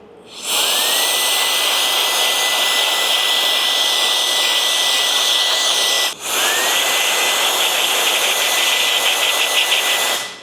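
A cordless paint spray gun powers up into a loud, steady high-pitched whine, cuts out briefly near the middle and then spins straight back up, running alone and close by.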